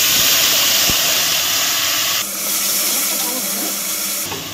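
Mustard, green chili and poppy seed paste poured into a hot pan for hilsa fish curry sets off a loud, steady sizzling hiss that holds for several seconds, dips briefly, then rises again.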